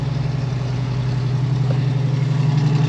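A Ford 302 V8 in a 1966 F100 runs on high idle in the cold, a steady, close, low engine hum with a slight wobble in its pulse, no voices.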